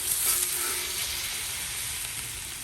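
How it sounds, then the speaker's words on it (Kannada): Fish frying on both sides in a little oil for a hotel-style Mangalorean fish dish, an even, moderately faint sizzle throughout with no voices. "ಎರಡು ಸೈಡಿಂದ ಕೂಡ ಮೀನನ್ನ ಫ್ರೈ ಮಾಡಿದ್ರೆ ಆಯಿತು."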